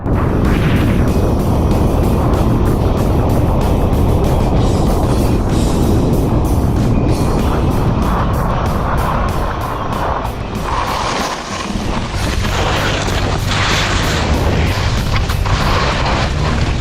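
Loud, continuous roar of a snowmobile engine running close by on a ski slope at Białka Tatrzańska, rough and droning, shifting in tone partway through as it passes.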